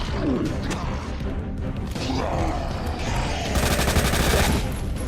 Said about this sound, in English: I'm just like panic shooting at this point